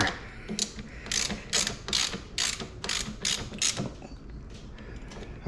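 A hand ratchet snugs a bolt during assembly of a Kangook Amaruk XD with a Polini Thor 202 engine: about ten quick, close, metallic clicking strokes in a steady rhythm, then it stops, with no voices.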